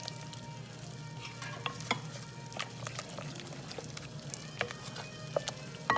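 Meatloaf mixture being stirred in a pan, heard as a faint, low sizzle with sporadic soft scrapes and clicks of a utensil, quiet and close, with no talking.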